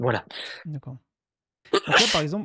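A single sharp sneeze in the middle of a French conversation about burying CO2 underground, bracketed by speech, with a brief pause just before it.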